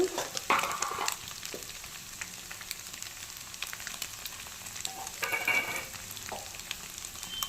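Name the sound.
cooked rice added to a pan and frying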